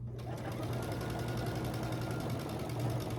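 A sewing machine stitches quilt block pieces with a steady, fast, continuous mechanical whir and needle rattle, close and moderately quiet.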